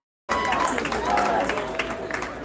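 Graduation ceremony audience applauding, steady dense clapping with some cheering that bursts in suddenly after a brief silence and carries on at full strength.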